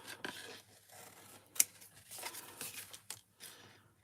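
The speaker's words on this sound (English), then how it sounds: "I'm just going to grab some scissors" Scissors snip and rasp through paper close by, a few soft cuts with one sharp snap in the middle.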